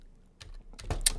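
Brief burst of typing on a computer keyboard, a handful of soft clicking keystrokes close by and alone, getting slightly louder toward the end.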